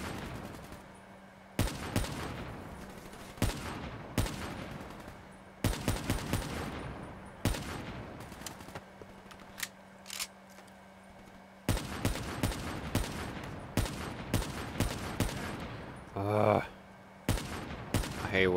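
Gunfire in the Call of Duty Black Ops 3 campaign, repeated loud bursts and single sharp shots spread across the scene with short pauses between volleys and a steady hum underneath.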